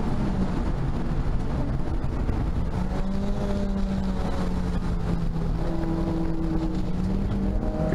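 A Renault Clio race car at Thruxton sweeps through a right-hander in a club race, its engine a constant loud drone whose pitch climbs and shifts steadily, heard from on board with no talk.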